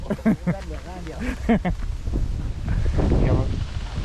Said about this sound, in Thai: ลมแรงจัด